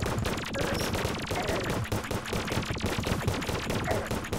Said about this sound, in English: Is he shooting lasers at us?